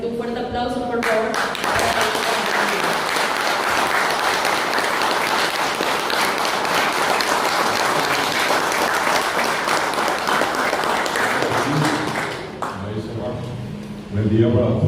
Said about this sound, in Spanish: Así que un fuerte aplauso, por favor.